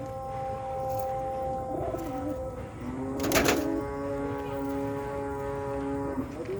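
King pigeons coo nearby in soft, drawn-out tonal calls, with one brief louder burst midway over a low background hum.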